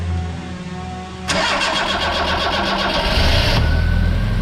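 A Yugo Sana GL engine, unrun for 20 years, cranks briefly, then catches and roars to life, running loud and rough with a steady idle that rises slightly near the end.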